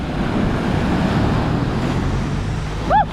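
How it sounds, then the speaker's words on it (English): Ocean waves on a stormy day in Lisbon roll in as a loud, continuous rumbling wash with wind buffeting the microphone, and a brief whoop rises near the end. "We have some waves on a stormy day here."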